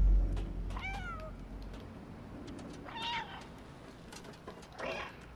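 Cat meows from the video game Stray: a few short, rising electronic-sounding mews spaced through the clip, moderately close over a low background hum.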